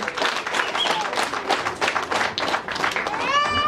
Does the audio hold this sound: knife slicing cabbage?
no